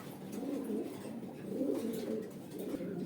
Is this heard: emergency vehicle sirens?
no